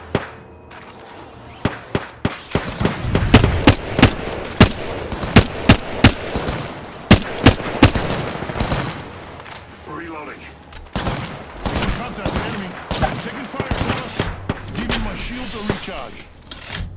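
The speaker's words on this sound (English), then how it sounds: "Opening fire on the enemy." Gunfire in the video game Apex Legends cracks out in loud, rapid bursts and single shots, clustered tightly, then thinning into scattered pops amid other game noise.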